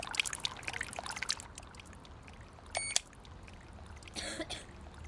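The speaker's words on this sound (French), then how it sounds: "On a laissé un robinet ouvert!" Cartoon water gushing and trickling from a tap left open, a splashy pouring stream with scattered sound effects and a louder burst of rushing water near the end, no voices.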